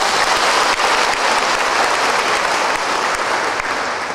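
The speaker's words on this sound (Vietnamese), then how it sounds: "một tràng pháo tay" A full round of applause from a congregation at a Sunday morning community celebration, dense and steady clapping that holds at an even level throughout.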